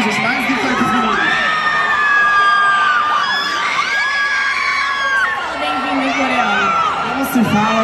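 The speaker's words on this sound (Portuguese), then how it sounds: "Pode gritar, hein, gente, mais gritar com os meninos" Fans at an anime convention in Brazil scream and cheer for an arriving K-pop group, a dense wall of high-pitched shrieks and whoops rising and falling, loud and close, with a voice speaking over the crowd.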